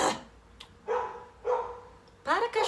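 A dog barks repeatedly indoors, several sharp separate barks spread across the stretch, while a person talks over them.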